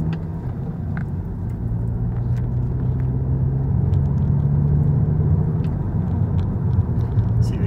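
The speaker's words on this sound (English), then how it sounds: "Over the speed bump and now accelerating again." A Volkswagen Golf GTI pulls away after a speed bump, its engine a steady low rumble with a faintly rising drone, heard from inside the cabin with no talk.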